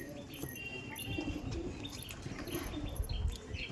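Andhra Madrasi flying pigeons coo softly in a loft, with low murmuring coos, scattered chirps and brief wing flutters close by amid steady background noise.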